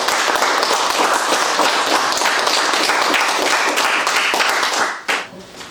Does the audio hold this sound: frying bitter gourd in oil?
no